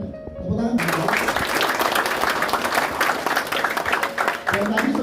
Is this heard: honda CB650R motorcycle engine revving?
no